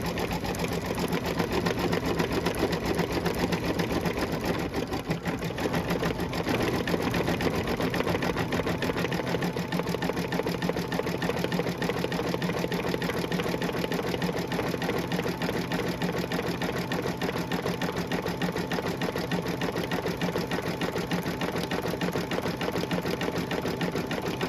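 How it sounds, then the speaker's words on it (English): A computerized embroidery machine stitches out a detailed design with a steady, fast, continuous mechanical whir and clatter. It sounds close and unbroken throughout, with no talking. "this is going to go ahead and stitch all the way out"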